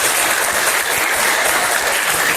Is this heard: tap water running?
no